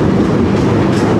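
The Puri Kamakhya Express rolls along the rails, heard from on board as a loud, continuous rumble of wheels and carriages picking up speed.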